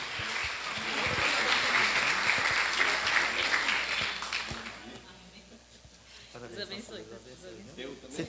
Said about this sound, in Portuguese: E a igreja aplaude ao Senhor pela serva de Deus.